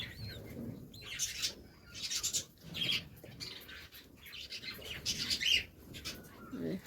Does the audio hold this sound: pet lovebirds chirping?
yes